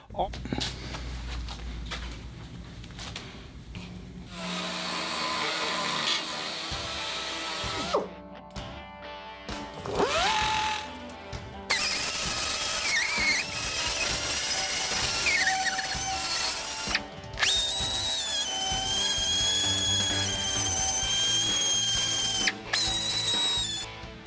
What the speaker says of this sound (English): I'm using a sand roll, also known as a Tootsie Roll.